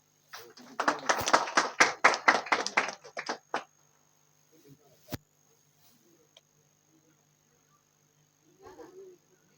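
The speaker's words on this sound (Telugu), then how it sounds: "అందరూ క్లాప్స్." A small group of people clapping together in a quick burst of about a dozen sharp claps lasting a few seconds, then near silence with a few faint taps and a brief murmur.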